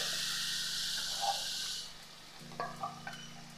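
Spices get stirred into pointed gourd and rice frying in a pan: a close, steady sizzle that fades after a couple of seconds, followed by a few scraping spoon strokes against the pan.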